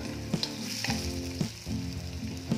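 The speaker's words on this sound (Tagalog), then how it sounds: "Ngayon naman, ilalagay ko na ang pinalambutan kong baka." Tenderized beef goes into a pot of Filipino beef sinigang, bringing a few sharp clanks over a steady sizzling, bubbling bed of sound, near and moderately loud.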